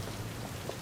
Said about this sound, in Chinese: 下雨了